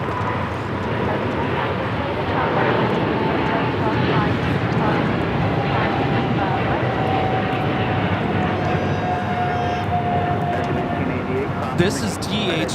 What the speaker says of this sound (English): This is DHL operated by Coletta at flight 230 taking off to Seoul on the 777 freighter